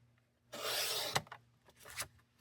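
Card stock sliced by a paper trimmer: one smooth scraping cut lasting about half a second, followed by a few shorter rubbing and sliding sounds close by, fairly quiet, no speech.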